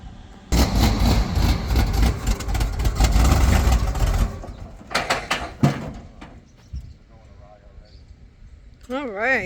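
A 1979 Ford F250 pickup with silicone RTV freeze plugs runs with a loud, deep rumble for several seconds. The rumble then drops to a fainter engine sound as voices talk nearby.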